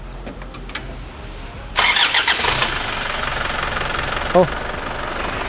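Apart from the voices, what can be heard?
diesel car engine starting and idling, Kijang Kapsul or Isuzu Panther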